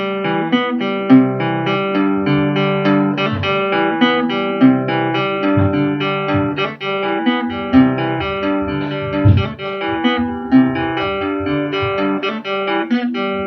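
A plucked guitar riff repeats in a steady loop, with bright ringing notes over lower bass tones, played alone at a moderate, even level.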